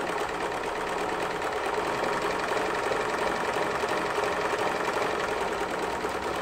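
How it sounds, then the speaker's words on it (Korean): A Lion 372 sewing machine, just repaired, sews a wide, dense three-step zigzag stitch: a steady, loud, close mechanical whir with a fast, even needle rhythm that runs without a break and has no voices over it. "세발뜨기 바느질, 넓게 촘촘하게."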